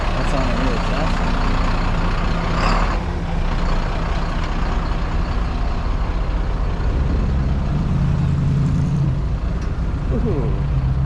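An old International truck pulls in at a garage meet-up, its engine a low rumbling drone with a brief hiss of air brakes, heard amid crowd noise and nearby talking.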